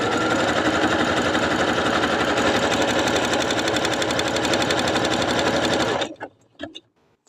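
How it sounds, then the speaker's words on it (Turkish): A sewing machine stitches the corner of an elasticated fitted sheet with a fast, steady mechanical rattle for about six seconds up close, then stops, leaving a few faint handling knocks. "Hem dikiyorum hem de çekim yapıyorum tekerle."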